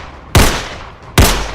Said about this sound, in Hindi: भुट्टो के हत्यारे ने पहले उनको 3 गोलियां मारी